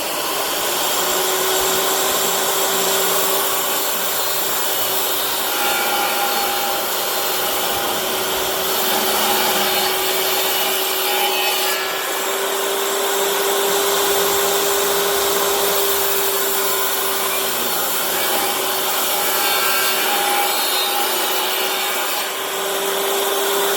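Table saw cutting a PVC side panel for a snake enclosure, a loud steady whining drone with a constant tone, running continuously and alone with no speech.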